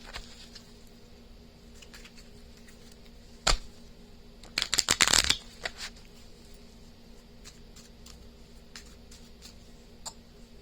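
Tarot cards being shuffled, a quiet room with a few soft riffling bursts and light taps in the middle, faint and close, with no one talking.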